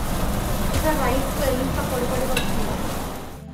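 Spice paste being stirred into masala-fried vegetables in a pan for gongura biryani, a continuous sizzle with scraping stirs, fairly loud and steady before cutting off at the end.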